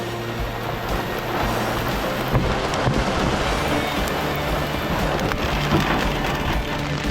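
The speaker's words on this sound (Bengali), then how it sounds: "কত বড় বড় দেখুন শিল পড়ছে বন্ধুরা শিলাবৃষ্টি হচ্ছে" Large hailstones come down hard in Gangtok, Sikkim, a dense, steady rattle of pelting ice striking nearby surfaces that keeps up without a break the whole time, with no voices.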